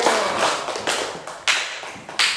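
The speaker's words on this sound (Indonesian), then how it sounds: "kita kasih tepuk tangan untuk kelompok 1" A few scattered claps from a class applauding a student group, sparse and uneven, coming in separate bursts rather than a full ovation.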